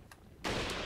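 A single gunshot headshot in the video game Resident Evil 4 bursts in loud and broadband halfway through, then holds as a sustained blast and rumble with no talking.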